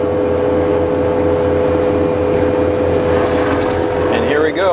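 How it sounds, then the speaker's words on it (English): A skid steer running a forestry mulcher holds a loud, steady engine drone with a strong tonal hum that stays constant throughout, close to the listener. "This is the first time I've ever driven a skid steer."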